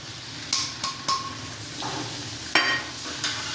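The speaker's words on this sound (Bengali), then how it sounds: "এবার ভালো করে মেশাতে থাকবো।" Red amaranth greens stirred in a pan while frying for a thick Bengali shak dish, giving a soft low sizzle broken by a few sharp scrapes and clinks of the spatula against the pan, with no talk.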